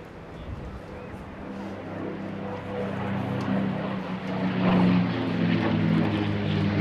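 A P-51D Mustang propeller fighter making a topside pass at a summer air display, a steady droning engine note that swells and grows louder toward the end, with a commentator talking over it.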